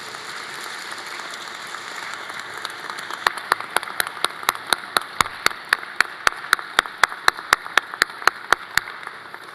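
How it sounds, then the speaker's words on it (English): An audience applauds at a morning ceremony, with dense clapping building steadily over about ten seconds and a rhythmic unison clap cutting through the crowd in the second half. "Stand up, find them, and give them a round of applause."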